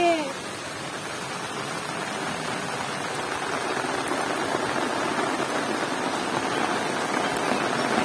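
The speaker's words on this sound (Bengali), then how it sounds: "চারিদিকে একদম তুখোড় বৃষ্টি নেমে গেছে।" Heavy rain pours down steadily over a rooftop and surrounding fields, a dense, even roar of drops that holds throughout at close range.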